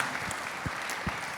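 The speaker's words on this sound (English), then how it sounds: "Give him a huge round of applause." An audience at a university family event applauds steadily, a continuous patter of many hands clapping at moderate volume with a few heavier claps standing out.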